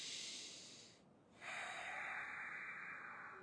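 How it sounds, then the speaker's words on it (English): A long, slow breath drawn through the nose during dry fasting, a soft airy hiss that briefly pauses and then continues steadily, close and quiet with no talk. "when you elongate the breathing through the nose,"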